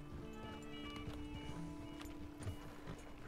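Horse hooves clip-clopping in the Red Dead Redemption video game, a faint irregular patter of hoofbeats over low ambient game sound.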